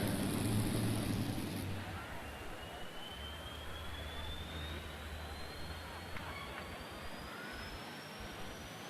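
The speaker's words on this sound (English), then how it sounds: "you can already hear that high whine as Art Arfons fires those turbines up" Turbine engines on the Green Monster, Art Arfons's vehicle at a farm machinery show, spool up with a rising high-pitched whine climbing steadily over a constant roaring rumble, heard at a distance amid crowd noise.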